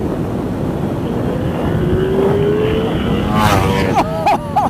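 A Ducati V4 Panigale sportbike passes on the road under a constant roar of wind and road noise. Near the end the engine's revving note rises and falls, quite loud and close.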